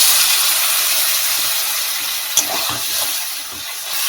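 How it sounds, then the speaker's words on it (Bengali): Spice paste with salt and chili powder fries in oil in a pan for a fish curry, a steady close sizzling hiss with a brief stirring scrape partway through. "নুন পরিমাণ মতন দিয়ে আবার ভালো করে মশলাটা কষিয়ে নেবো"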